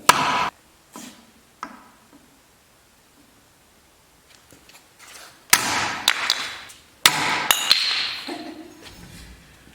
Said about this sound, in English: let's hope it's not too dull to go through these water bottles